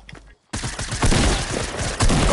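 Loud, dense rifle fire from a sniper in Fortnite erupts after a brief quiet gap, shots crowding together into a sustained close barrage.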